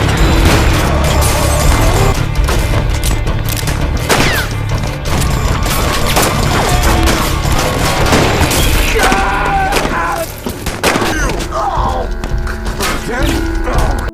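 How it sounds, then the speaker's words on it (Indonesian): A loud, chaotic gunfight in a film, with dense bursts of gunfire, booms and crashing impacts running nearly continuously, mixed with voices. "Dan baku tembak pun tidak terelakkan."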